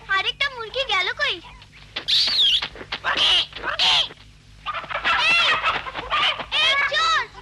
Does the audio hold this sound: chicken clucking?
yes